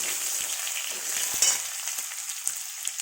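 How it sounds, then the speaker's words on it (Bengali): Papaya and potato pieces fry in a kadai with a little oil, giving a close, steady crackling sizzle. A few sharp taps and scrapes from stirring cut through it, with no voices. "পেঁপে আলুটা কড়াই দিয়ে দিলাম এটা একটু ভালো করে ভেজে নেবো"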